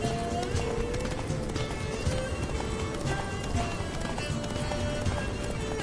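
Horse galloping in The Witcher 3 video game, a fast steady clip-clop of hooves under game music, continuous and close.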